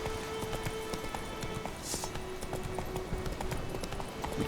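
Roach, the horse in The Witcher 3 video game, gallops with a fast, steady rhythm of close hoofbeats over a continuous background wash.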